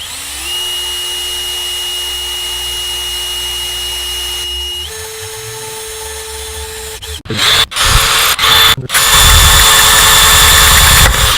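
A drill bores into a smartphone display with a steady, even whine that shifts pitch partway, then breaks into loud, rough grinding bursts as the bit bites through the screen.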